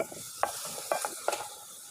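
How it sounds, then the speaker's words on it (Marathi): Paneer stir-fried in hot oil in a pan: a steady sizzle with three sharp stirring scrapes spaced through the clip, close and fairly quiet, with no talking. "1 उबळी तेल टाकून पनीर परतू"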